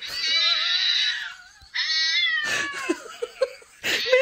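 A cat lets out a series of long, drawn-out whining meows, loud and close, the last few broken into shorter yowling calls with brief gaps between them.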